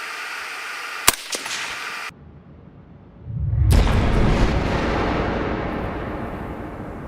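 A single suppressed .223 rifle shot fired through a see-through suppressor, a sharp loud muffled blast followed by a sustained low rumbling wash that slowly fades, heard alone after a couple of faint earlier clicks.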